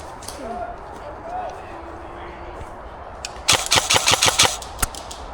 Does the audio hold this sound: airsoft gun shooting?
yes